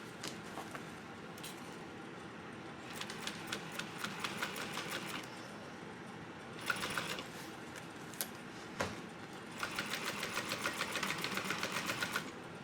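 A sewing machine stitches and backstitches seams on a bucket backpack, with bursts of rapid, even needle clatter separated by short pauses, close and steady.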